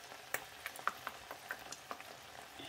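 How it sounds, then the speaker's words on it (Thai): Pickled mustard greens simmering in a pot, a faint bubbling with scattered soft pops and clicks at an uneven rhythm, quiet and close. "เคี่ยวผักกาดดองให้สุกๆ สักหน่อย"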